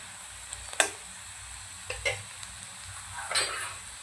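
Onion fries in oil in a pan for a chana masala, a soft, fairly faint sizzle with a few scattered spatula scrapes and clicks.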